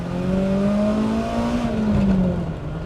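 A BMW E30 M3 engine climbs in pitch as it revs up, holds, then eases back down, loud and close with a steady mechanical drone.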